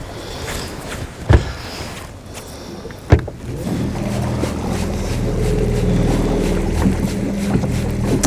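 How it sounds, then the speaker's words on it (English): Strong wind gusts across open water during fishing from a boat, rising into a constant low rumbling buffet after two sharp knocks against the hull. "Wind's getting pretty strong down here."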